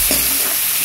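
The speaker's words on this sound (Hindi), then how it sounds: "अब मैं प्याज को गोल्डन ब्राउन होने तक फ्राई करूँगी।" Chopped onions hit hot oil with crackled cumin seeds for a jackfruit curry, producing a brief, loud, close sizzle.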